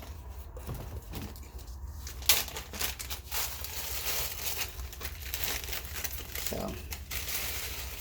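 Crackers get crushed inside a small Ziploc plastic bag for crab cakes, a busy run of crinkling, crackling plastic and crumbling bits, heard close up while a person talks.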